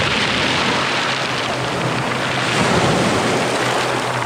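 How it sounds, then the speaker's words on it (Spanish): Waves wash over a pebble beach on the northern coast of France, a loud, continuous hiss and rush of surf with rattling stones throughout, close and without voices. "El hermoso sonido de las piedras."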